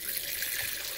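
Water drains and splashes through a sieve while starfish are rinsed, a steady close hiss of running water lasting about a second with no talking.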